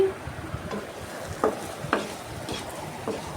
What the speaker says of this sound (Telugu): చక్కగా వేగాలండి ఈ విధంగా పచ్చివాసన పోయేలాగా వేగాక